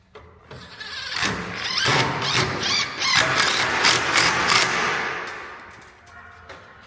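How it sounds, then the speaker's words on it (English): A screw is driven through a cedar shed rafter into the gable rafter outdoors, giving a loud, close, buzzing whir with ratcheting clicks that runs for several seconds before trailing off. "screwing the rafter from the outside into the gable"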